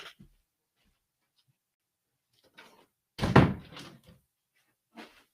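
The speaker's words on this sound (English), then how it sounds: "Hold on, let me close the door." After quiet, a door swings shut with a solid thud and brief rattle, followed by a few light knocks and shuffles nearby.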